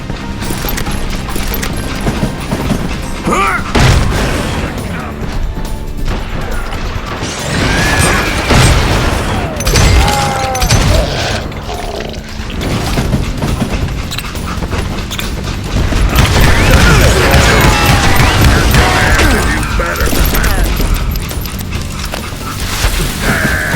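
A shootout in the video game Call of Juarez: Gunslinger, with dense, loud, continuous bursts of gunfire and mechanical clatter throughout.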